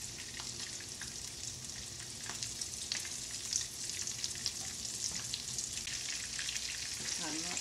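Shrimp fry in grease in a pot on a burner, giving a steady close hiss with crackling pops and light stirring clatter throughout.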